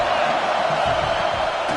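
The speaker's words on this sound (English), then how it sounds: "crowd trying to make life miserable for this offense." Steady roar of a stadium crowd at a football game, a dense wash of voices filling the whole stretch evenly and loudly with no breaks, as fans try to rattle the offense.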